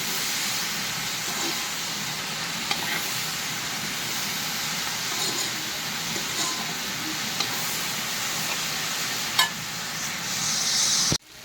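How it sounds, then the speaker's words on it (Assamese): Turmeric powder, salt and spices frying in hot oil in a wok, a steady loud sizzle and hiss that runs unbroken throughout, with a few faint clinks from stirring. "এই ৰং গুড়া নিমখ দি এতিয়া ভাজি আছোঁ কেৰাহীত মই।"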